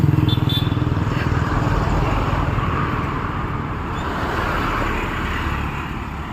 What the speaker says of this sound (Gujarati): એક્ટિવા જબરજસ્ત સ્પીડમાં લઈને જાય છે